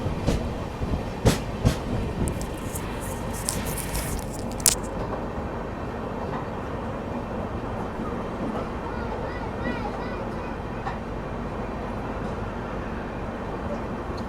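The Mahabodhi Express rumbles steadily along the rails, recorded from inside with a continuous low roar and a few sharp clicks and clanks early on.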